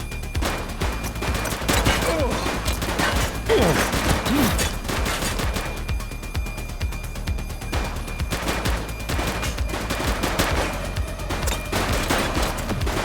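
A police shootout in the video game The Precinct brings sustained, overlapping volleys of gunfire that crackle and pop close by without letup, with occasional shouting voices mixed in.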